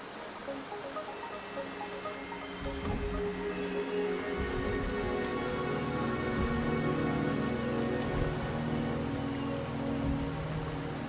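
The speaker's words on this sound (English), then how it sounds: "The rain is subsiding, and the sky will soon clear." Steady rain patters in the Wuthering Waves game world, a continuous dense hiss of drops on surfaces that swells slightly, with soft low rumbling underneath and no talk.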